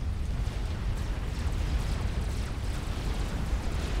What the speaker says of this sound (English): What's with all these explosions,